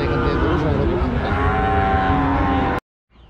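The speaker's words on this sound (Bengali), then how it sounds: "খুব সুন্দর সুন্দর গরু পাবেন আপনারা দেখেন। খুব সুন্দর সুন্দর শাহিওয়াল, যেটা অরিজিনাল শাহিওয়াল" A Sahiwal cow lows in a long, sustained call at a busy cattle market, loud and close, then cuts off abruptly into near silence.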